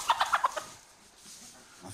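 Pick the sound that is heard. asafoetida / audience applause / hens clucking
hens clucking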